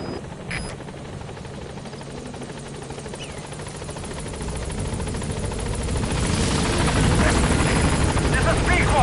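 A helicopter in the video game Metal Gear Solid V approaches a landing zone, its rotor thudding steadily and growing louder and closer toward the end, with a brief radio-like voice early on.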